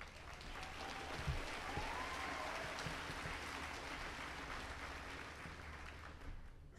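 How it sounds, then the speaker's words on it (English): Steady applause from a crowd at a high school graduation, fairly faint and distant, sustained clapping throughout without any break. "If we can go ahead and give them a round of applause."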